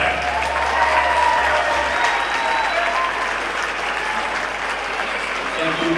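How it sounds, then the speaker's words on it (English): A gym crowd at a high school basketball game applauds Evanston High School's senior pep band members, with steady, dense clapping and some cheering that stays loud and even throughout. "put your hands together for the seniors for your Evanston High School pep band"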